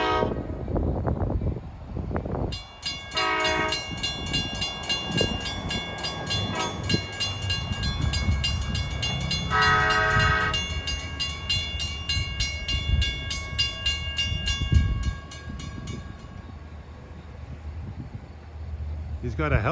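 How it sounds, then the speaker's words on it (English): A K5LA horn on Long Island Rail Road DE30AC locomotive 405 sounds several long, deep, musical blasts, rising over the rumble of a passing train, with someone talking at points. "The 6001, by the way, has DE30AC 405 on the point, which has one of the best K5LA horns on the railroad"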